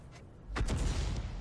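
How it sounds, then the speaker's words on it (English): A tank gun fires a single round in a tank battle video game, likely from a leFH18B2 105 mm self-propelled howitzer, giving one sharp, loud boom midway that decays into a rumbling tail over low background noise. "He fires another round in."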